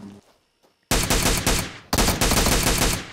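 Automatic gunfire from PUBG Mobile: after a quiet moment, two loud, sustained bursts of rapid shots crack out back to back, close and dominant.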